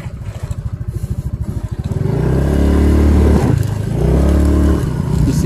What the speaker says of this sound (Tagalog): this is just a scooter.